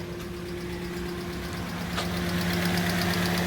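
A Mazda 2 car engine runs steadily nearby with a low, even idle hum and faint knocking pulses, filling the whole stretch at a constant level with no talk.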